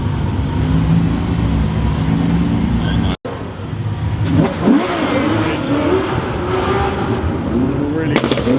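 A Bugatti Veyron with chrome wheels passes on a London street, its engine rising and then fading under steady traffic noise, with people talking nearby throughout.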